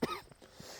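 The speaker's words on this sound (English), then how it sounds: "Pardon my cough." One short, close cough bursts out at the start, followed by quieter throat sounds, outdoors on Miscou Island.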